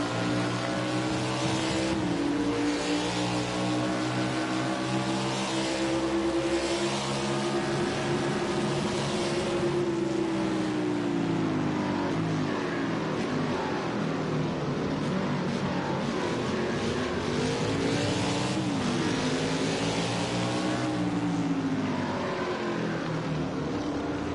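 Race cars on the circuit at Road America roar steadily for the whole stretch, engines droning and rising and falling in pitch as they accelerate and shift, a continuous loud close-up engine note with no talk.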